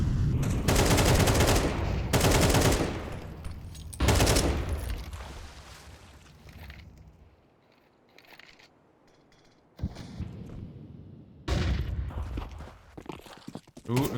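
Rapid bursts of M4 rifle fire ring out in a Counter-Strike match on the Anubis map, several loud sustained volleys separated by quieter stretches of in-game ambience, with no voices.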